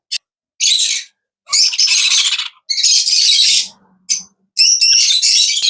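Loud, harsh squawks from young parrots come in five or six close bursts, separated by short silences, with no voices.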